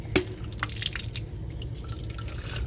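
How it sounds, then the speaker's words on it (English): Tap water runs steadily into a sink while rocks are rinsed, with splashes and drips over a constant watery hiss, close by and with no talking. "Rinse the rocks."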